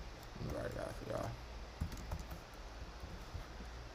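Brief soft clicks of a computer keyboard being typed on, a few quiet keystrokes near the end after someone speaks over low background hum.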